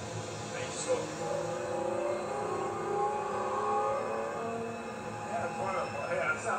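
Car engine induction noise in fifth gear at a steady 3,000 RPM, a continuous droning intake roar heard from inside the cabin, with people talking over it.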